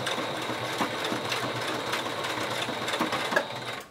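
A sewing machine runs steadily up close, stitching fabric for a protective face mask with a fast, continuous mechanical whir and needle chatter.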